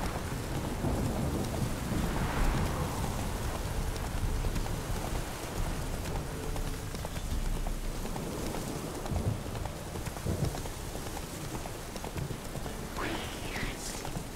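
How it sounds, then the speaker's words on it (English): Rain and rolling thunder in the video game The Witcher 3: Wild Hunt, a steady wash of rainfall with low rumbles, mixed with a horse's clip-clopping hooves moving along. "rains every 2 seconds in this game"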